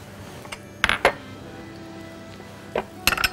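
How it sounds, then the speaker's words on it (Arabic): Ingredients beaten together in a bowl with peeled potatoes produce a few sharp metallic clinks and taps in quick clusters, separated by quiet pauses. "نضربهم مع بعض شوية الأول"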